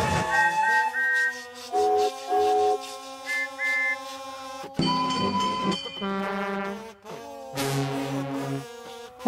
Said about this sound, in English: The engines surprised James with whistles, horns, and cheers.